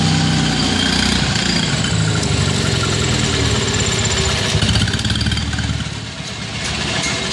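A Kohler 5000 watt generator engine runs on gasoline with a loud, steady, close-up drone that dips slightly near the end as the fuel starts to run out.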